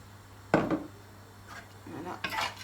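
Couscous grains stirred by hand in a metal couscoussier, giving a sharp clatter of metal at the start and then lighter scraping and clinking, close and fairly quiet.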